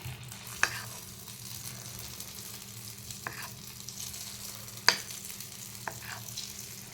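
Phulki batter deep-frying in hot oil for pani puri, a faint steady bubbling sizzle with a few sharp clicks and taps of a utensil now and then, heard close and without speech.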